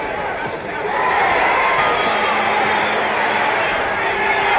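Boxing arena crowd at the 1975 Muhammad Ali vs Ron Lyle fight, a loud, steady roar of many voices filling the hall, swelling slightly after the first second and holding without a break.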